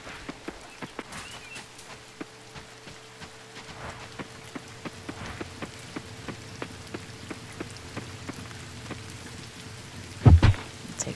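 Rain falling in the farming game Coral Island, a soft steady patter with scattered sharper drops ticking on surfaces, plus a low rumble near the end.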